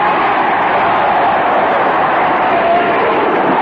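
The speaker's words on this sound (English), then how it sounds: "Crowd giving all the vocal support they can muster to their club." Steady roar of a stadium crowd cheering at a Houston Astros home game against the Phillies during the NLCS, a dense continuous wash of voices with no single shouts standing out.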